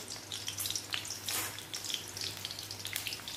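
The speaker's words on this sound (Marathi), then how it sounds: "तेल गरम झालेलं आहे. त्यामध्ये मी फोडणीला कांदा घालते" Chopped onion hisses in heated oil for a tempering, a short, fairly soft, even sizzle with a low hum underneath and no voices.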